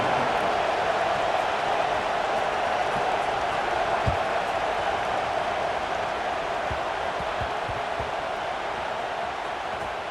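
Stadium crowd noise in an EA Sports NCAA college football video game, a steady, dense wash of distant crowd murmur and cheering that never lets up, heard alone with no clear voices on top.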